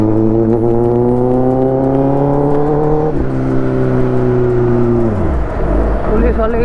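A Kawasaki ZX10R motorcycle with a loud aftermarket exhaust roars close by, its engine pitch climbing steadily, dipping, then falling away near the end.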